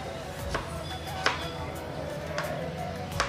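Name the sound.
cutting fruit into medium pieces for fruit custard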